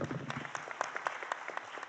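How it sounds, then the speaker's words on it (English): A small audience at a startup pitch event gives sparse, faint applause, a handful of distinct claps in an uneven rhythm over a short stretch. "Let's have a round of applause for them."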